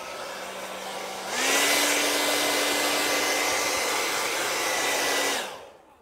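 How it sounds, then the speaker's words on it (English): A hair dryer switches on with a rising whine, blows in a steady loud roar for about four seconds, then shuts off and winds down. "I kind of want to dry this a little tiny bit with my hair dryer"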